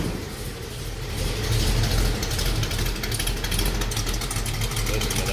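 A 1936 Ford five-window coupe street rod with a 468 engine idles steadily nearby, a low continuous rumble with mechanical ticking that rises slightly after the first second and holds even.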